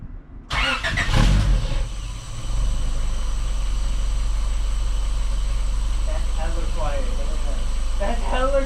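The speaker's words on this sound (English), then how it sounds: "we start up the car and take a listen to the Apexi WS2 with" A Honda with an H-swap engine and an Apexi WS2 catback exhaust cranks and fires up, then settles into a steady, fairly quiet idle; faint voices come in near the end.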